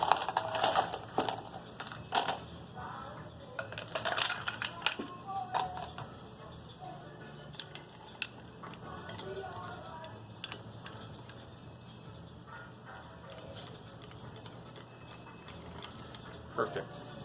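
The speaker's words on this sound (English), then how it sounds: "Now we're going to add ice and stir for 20 to 25 seconds." Ice is added and stirred for a Black Manhattan cocktail, with faint clinks and tinkling against the mixing glass that continue steadily. Everything stays quiet and close, and a voice speaks briefly early on.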